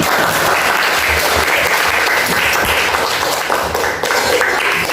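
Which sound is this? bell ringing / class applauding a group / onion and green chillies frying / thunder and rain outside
class applauding a group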